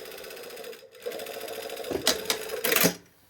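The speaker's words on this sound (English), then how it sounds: "And I'm sewing 1/4 of an inch from the seam line." A sewing machine stitching a shirt sleeve a quarter inch from the seam line, steady rapid mechanical chatter with a short pause, then louder bursts and clicks toward the end.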